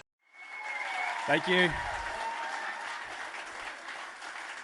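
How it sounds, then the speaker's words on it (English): Enthusiastic audience applause at an interview event, swelling after a brief silence and holding steady while someone briefly speaks over it. "that's the best round of applause I've had for quite a while"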